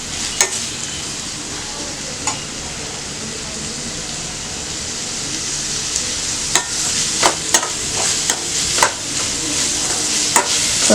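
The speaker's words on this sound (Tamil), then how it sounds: "வெங்காயம் நல்லா வதங்கட்டும்." Onions sautéing in a frying pan while squid fish fry is cooked, a steady soft sizzle with occasional sharp clicks and stirring scrapes, fairly close and alone.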